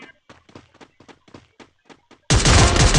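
Rapid gunfire from Counter-Strike gameplay, a string of about ten sharp shots in quick succession followed by a sudden, loud, sustained burst of noise.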